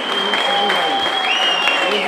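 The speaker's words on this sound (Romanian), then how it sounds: "Aplauze toată lumea!" Crowd applause at a pigeon racing event in Arad, Romania, as a prize winner is announced; steady, dense clapping fills the whole stretch at close range, with a tonal whistle-like line running through it.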